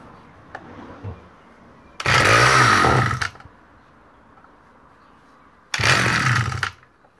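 A chainsaw, either a Husqvarna L65 or a McCulloch Pro 10-10 Automatic with a fresh chain and adjusted rakers, revs loudly in two separate bursts of roughly a second each, with a quiet low idle between them.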